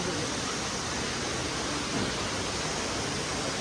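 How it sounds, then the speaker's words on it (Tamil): Steady, loud broadband rush of Jalagamparai waterfall, falling water roaring continuously and evenly at close range with no breaks or other distinct sounds. "அருவியெல்லாம் சூப்பராக இருக்குது"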